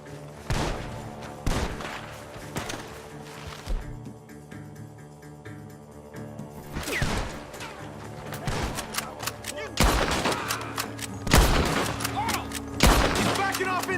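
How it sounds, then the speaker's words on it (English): Repeated gunshots from a barn crack and boom in bursts in Red Dead Redemption 2, some rapid volleys and single shots, loud and close over a continuous game background with occasional voices. "The gunshots are coming from that barn!"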